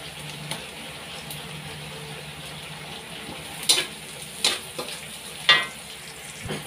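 Pork cubes frying in a pan give a steady, moderate sizzle close by, with a few louder clinks and scrapes of stirring against the pan and no talking.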